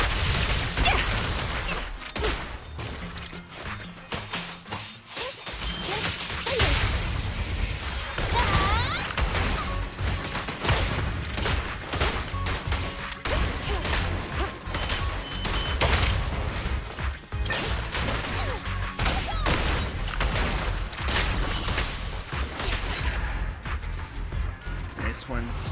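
Rapid gunfire and crashing impacts from the video game Zenless Zone Zero run almost nonstop and loud for the whole stretch, with dense bursts of shots over busy game effects and voices.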